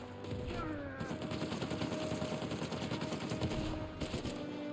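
Uncharted 4 video game combat: dense, continuous rattling gunfire and bullet impacts, loud and unbroken throughout, with no clear talking.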